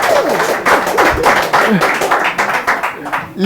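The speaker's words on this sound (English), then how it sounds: "let's give him a round of applause" Applause from a church audience at a Bible quiz contest in Ghana, a steady run of clapping lasting a few seconds with voices talking over it.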